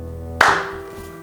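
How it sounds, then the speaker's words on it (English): A single sharp clap rings out close and clean, a lone strong hit that decays quickly with nothing else around it. "Just give me a clap."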